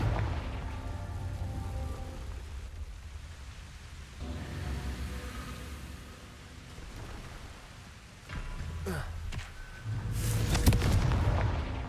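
Confringo blasting-spell explosions in Hogwarts Legacy come as deep rumbling booms mixed with crackling debris, with a louder burst near the end over dark ambient game sound.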